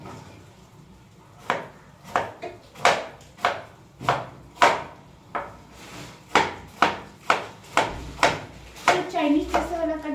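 A knife chops onions and other ingredients for a chicken dish on a wooden board, with about fifteen crisp, evenly paced strikes close by and a little scraping near the end.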